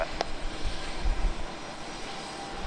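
An airplane at San Diego's single-runway airport gives off a steady, broad engine roar at moderate distance, continuous and even throughout with no talk.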